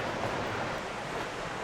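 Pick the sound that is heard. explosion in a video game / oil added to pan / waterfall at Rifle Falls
waterfall at Rifle Falls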